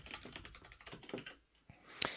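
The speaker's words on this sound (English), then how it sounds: "because I was just typing a message." Someone types a message on a computer keyboard: a quick, close run of key clicks and taps in an uneven rhythm, slowing near the end, with a final sharper keystroke.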